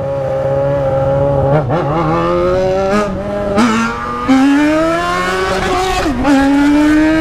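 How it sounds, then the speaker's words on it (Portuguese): A loud Yamaha XJ6 motorcycle engine revs up and down repeatedly, its pitch climbing and dropping in surges, close by and continuous. "XJ tem um barulho alto pra caralho. Olha barulho dessas motos"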